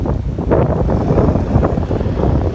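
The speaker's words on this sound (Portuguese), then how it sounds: "E aqui tá ventando demais, mano." Strong, cold gusts roar steadily across the microphone in a Spanish town, a loud, low buffeting rumble with no talking.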